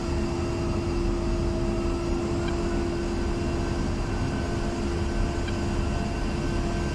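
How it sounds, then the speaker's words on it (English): A-10C II jet taking off from a runway in the DCS World flight simulator on the Syria map, a loud continuous engine roar with a steady high whine, even and unbroken, with no talk. "We're still taking off this runway"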